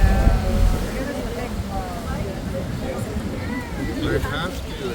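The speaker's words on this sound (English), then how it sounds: "we have seen the amazing La Bufadora, the Ensenada blowhole" Seawater surging at La Bufadora, the blowhole near Ensenada, Mexico, with rushing surf and wind noise rising and falling while people talk over it.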